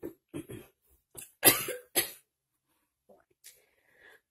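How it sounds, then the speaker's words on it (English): A few short, sharp coughs close to the microphone, loud and spaced apart, followed by quieter breathy sounds. "I had to cough."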